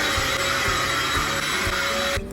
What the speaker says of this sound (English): I got this mini vacuum cleaner जिससे कि मैं ये अपनी कारपेट साफ करती हूँ